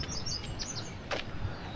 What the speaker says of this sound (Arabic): ايوه طائر